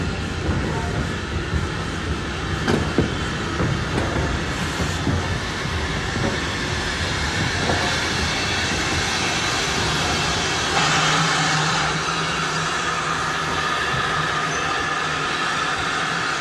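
Drummond T9 class steam locomotive No. 120 in Southern Railway express livery running on rails, a loud sustained rumble with rhythmic clatter throughout, faint narration over part of it.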